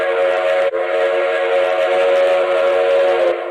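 A loud, steady train whistle or horn blares as a train sound effect, holding a sustained multi-tone chord for over three seconds with a brief dip near the start.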